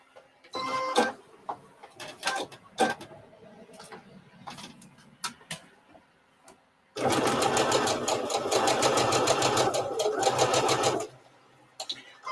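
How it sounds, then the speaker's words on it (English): A sewing machine stitches quilt patches of blue and white fabric, running in one loud, continuous, rapid whirring burst lasting several seconds after a stretch of softer handling clicks and taps. "So I'm going to go ahead and stitch those."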